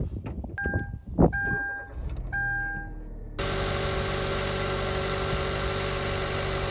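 Car engine that had refused to start cranks and catches after repair, with a few clicks and whirs first, then settles into a steady, even idle that continues to the end.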